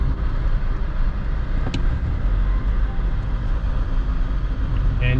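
A 1993 Volvo 240 wagon with a five-speed manual and rear-wheel drive cruises on a winter road, a steady, loud low engine and tyre rumble filling the cabin without pause.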